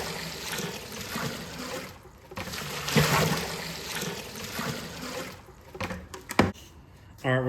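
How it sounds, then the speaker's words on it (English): Ten gallons of water pour into a banana brandy mash, a steady splashing rush for several seconds that thins into trickles and a few bright knocks near the end, with no one talking. "So now we're going to go ahead and add the remaining 10 gallons of water."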